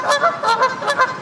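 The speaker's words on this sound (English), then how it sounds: "you've got your romantic goose couple in front of a filthy river" Geese honking beside a dirty river, a series of four or five loud nasal calls in quick succession, close by with no other sound.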